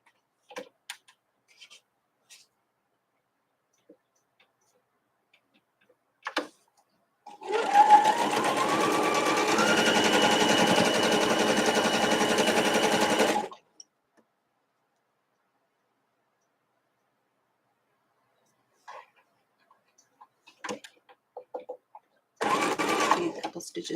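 A close sewing machine chain-pieces quilt pieces in one sustained run of fast, even stitching lasting several seconds, framed by scattered handling clicks and a brief second burst at the end.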